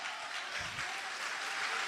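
Church congregation clapping together in a steady, dense wash of applause during a sermon, with no voices rising above it.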